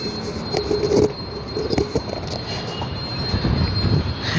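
A Bengaluru metro train rolls past near Central College metro station close to Majestic, a steady mid-level rumble with faint wheel squeal and clatter throughout, no talk.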